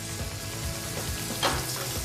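Chicken stock poured into a hot frying pan to lift the browned bits sizzles steadily and evenly throughout, close and moderately loud, with no talking.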